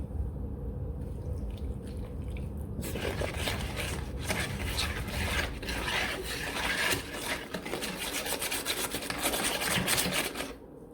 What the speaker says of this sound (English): And then we're going to whisk this all together.